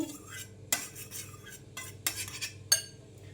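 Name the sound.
tomatoes, onion and cucumber being added to a bowl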